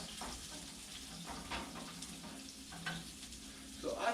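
A flour-and-fat roux for gravy sizzles in a pan, a soft, steady frying hiss heard close but quietly, with a few faint clinks of stirring.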